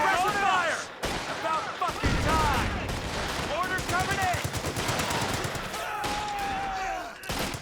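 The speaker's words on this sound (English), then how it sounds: "Paratroopers on the other side from laggyAR with the M1919s, and he's got two 50 cals now" Machine gun fire in the WWII strategy game Company of Heroes 2, with M1919 and .50 caliber guns firing dense, rapid bursts alongside explosions and thuds, loud and continuous, while a commentator talks over the action.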